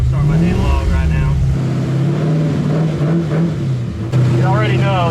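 An International Harvester Travelall wagon with an LS V8 swap, air-bagged suspension and a street tune drives on the road. Its engine drones steadily and loudly, then climbs in revs near the end, while someone talks over it.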